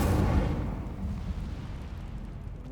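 An Incendio fire spell in Hogwarts Legacy bursts loudly at the start, then fades into a long, decaying rumbling roar.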